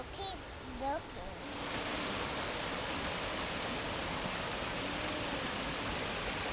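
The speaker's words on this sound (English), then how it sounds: "we're getting down closer to the waterfall" A waterfall rushes as a broad, steady roar that swells after a moment and then holds, loud and continuous, with a voice speaking briefly at the start.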